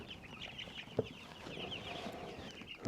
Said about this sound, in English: these voracious eating and growing chickens